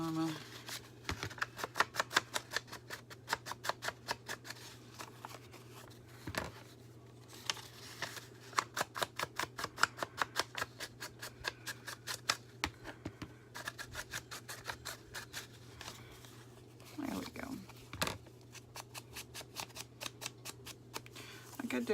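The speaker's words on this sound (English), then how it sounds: "I'm not a good cutter. Especially with these big old honky scissors." Repeated crisp snips of large scissors cutting paper for a journal cover, irregular in rhythm, close and fairly quiet over a steady low hum, with speech between cuts.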